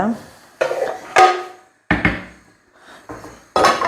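A frying pan and dishes clatter in a home kitchen, several sharp bursts of metal and ceramic knocks, close and fairly loud, separated by brief quiet gaps.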